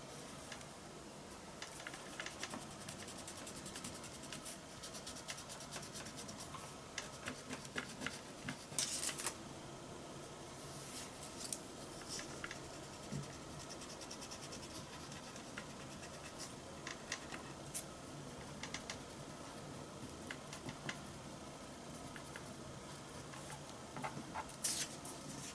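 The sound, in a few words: erasing pastel with an eraser through a stencil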